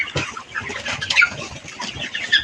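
Chickens clucking in a farm shed, scattered soft clucks and chirps close by, with occasional rustling and a steady background hum.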